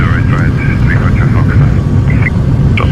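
Engines of an Antonov An-124 Ruslan hold a constant heavy drone in the cockpit before takeoff, with crew voices speaking over the rumble.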